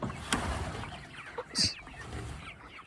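Barred Rock chickens in a pen give a few soft, scattered clucks up close against a quiet background, with one brief sharper call partway through.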